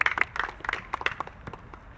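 An audience claps to welcome a visiting foot volleyball (jokgu) team at a club gathering, a short burst of scattered hand claps that thins out toward the end.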